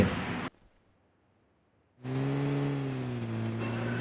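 A car driven in a video game: after about a second and a half of near silence, a loud engine bursts in and holds a steady, slightly rising drone to the end.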